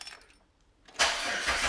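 A Jeep WJ Grand Cherokee engine cranks and fires after a quiet moment with faint clicks, then settles into a loud, broad, steady roar that continues to the end.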